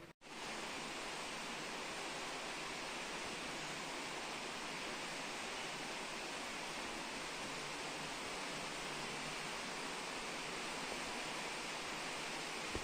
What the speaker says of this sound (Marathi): पाऊस चालू झालेला आहे